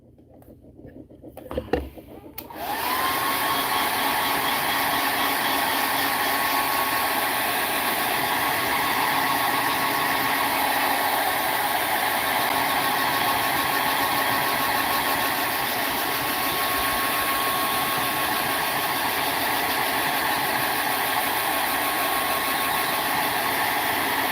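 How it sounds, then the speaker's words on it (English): A hairdryer switches on after a brief rustle and runs loud and steady with a constant whirring hum. "Let me hit this with the hairdryer."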